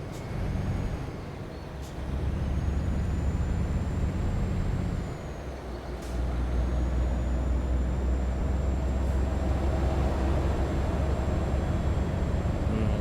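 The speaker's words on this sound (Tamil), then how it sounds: "வண்டி ஏறது கஷ்டப்படுது" DAF truck engine in Euro Truck Simulator 2 droning low and heavy as it labours uphill, a constant loud rumble that briefly eases twice before settling back into its strained hum.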